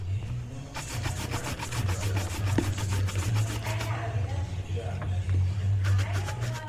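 An Allen Edmonds walnut leather shoe is brushed back and forth during polishing, producing rhythmic rubbing strokes close to the mic with a low hum underneath.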